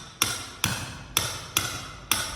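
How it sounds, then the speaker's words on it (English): Steady chiselling into a cement floor to cut a channel for buried polyflex pipe: five sharp metallic hammer strikes spaced roughly half a second apart, each with a ringing tail, close and fairly loud with no talk. "chisel in this channel to hide this polyflex in the cement floor so it'll be flat."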